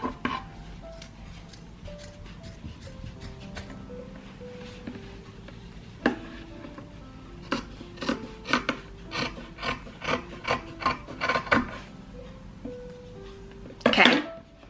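Fabric being trimmed with scissors to straighten curved edges of trouser material for a homemade headband: a run of close, crisp snips and rasping cuts, clustered near the middle, with faint background hum and a louder rustle at the end.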